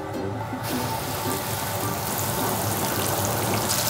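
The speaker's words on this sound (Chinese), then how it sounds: "把那个鱼下锅了" Fish pieces for sweet and sour fish dropped into hot oil in a home kitchen pan, a loud, dense, steady sizzle filling the whole moment without voices.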